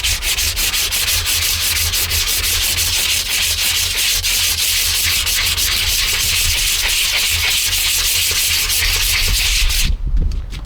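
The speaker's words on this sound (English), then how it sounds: "2 pieces of dowel, 2 pieces of sandpaper, and now I can just move it like this." Sandpaper wrapped around dowel pieces rubs back and forth along a Harley Benton guitar body, a loud, continuous rasping in fast, steady strokes that stops abruptly at the end, close and with no voices.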